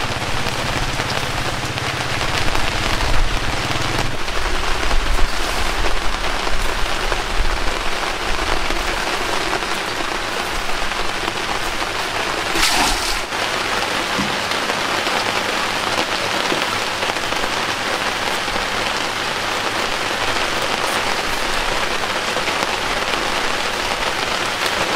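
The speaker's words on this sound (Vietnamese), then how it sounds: "Chiều mưa nhìn thấy buồn nha." Steady rain patters on a riverboat through a long stretch, a dense, even hiss with a low engine-like hum under it early on and a brief louder burst midway, no voices.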